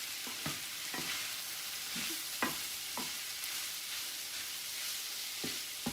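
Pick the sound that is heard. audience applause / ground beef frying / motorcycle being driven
ground beef frying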